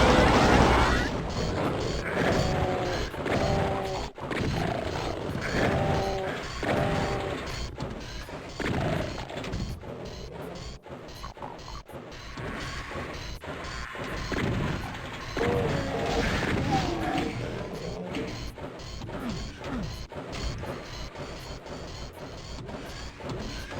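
Rocket blasts and impacts in a retro first-person shooter with a pistol-start challenge, a dense run of loud crashing explosions and thuds repeating throughout over constant game noise.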